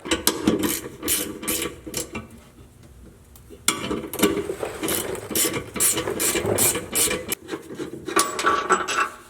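Repeated bursts of a socket ratchet clicking close by as bolts come out from under a Jeep JLU during a track bar and sector shaft brace install, in several separate runs with short pauses between them.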